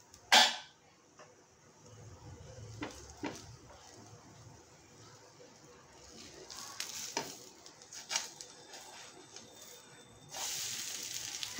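Sweet corn chila sizzling and frying in a hot pan right after the lid is lifted, a steady close hiss with a sharp clatter at the start and occasional light scrapes and taps.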